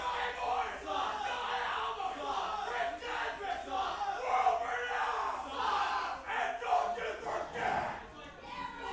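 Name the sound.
wrestling crowd jeering a wrestler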